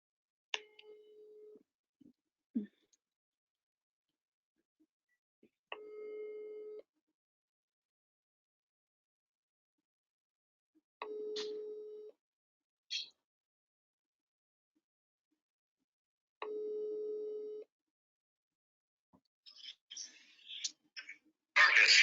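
Telephone call tones come through a call line: several steady, separate hum-like tone bursts about a second long, spaced by silent gaps, with a few clicks and a muffled voice near the end.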